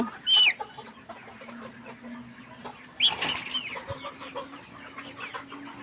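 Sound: sick layer hens clucking

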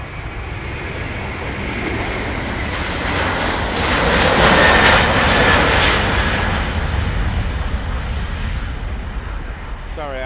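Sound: KLM Airbus A330 jet aircraft engines

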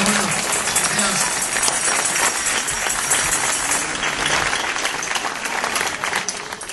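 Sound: audience applause for two performers at a folk festival

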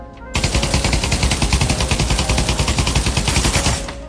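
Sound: Galil rifle firing in video game Pavlov VR

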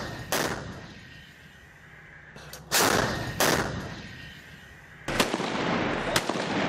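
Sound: artillery bombardment and gunfire on terrorist positions

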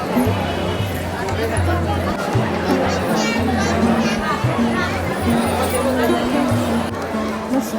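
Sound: crowd of devotees chattering at Tuljabhavani temple

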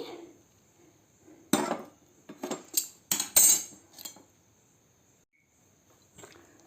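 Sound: spoon mixing tempering and coriander into coconut chutney

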